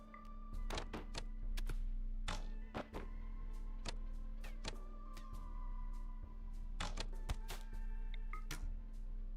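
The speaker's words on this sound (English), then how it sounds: "Oh crap, they're shooting at us" Enemy gunfire in RimWorld, a colony-building game: a steady series of sharp, clipped game shots and thunks pops off at irregular intervals over a constant low hum of game sound.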